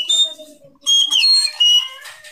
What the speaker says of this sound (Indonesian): Yang siul itu di mana itu?